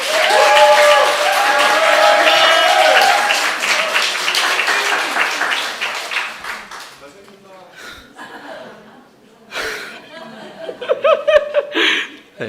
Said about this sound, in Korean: 환영의 큰 박수를 부탁드립니다